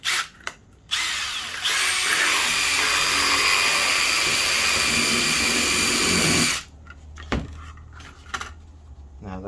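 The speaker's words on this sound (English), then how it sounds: "We are going to make this hole now with a 1/4 inch drill bit." A power drill with a 1/4 inch bit bores a hole, a loud continuous high whine lasting about five seconds after a couple of brief starts, then handling knocks and clicks.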